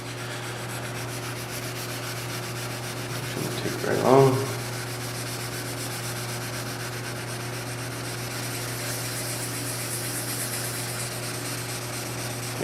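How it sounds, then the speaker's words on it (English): Wet sanding of car paint with 1500 grit paper makes a soft, light rubbing that runs steadily and faintly close by, with a short spoken remark over it. "So we got 1500 here wet. Just going to go over it real lightly here."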